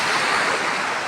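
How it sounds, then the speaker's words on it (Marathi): A strong stream of water rushes beneath an unfinished flyover, a loud continuous broadband roar with no break and no voices. "हे बघा, पाण्याचा प्रवाह बघा."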